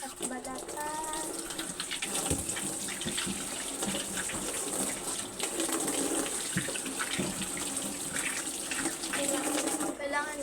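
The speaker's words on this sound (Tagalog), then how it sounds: "Dahil maghugas ako guys. Hugasan na natin siya mga te." Fresh mangoes being washed under a running tap, a steady broadband splash of water that continues throughout at close range.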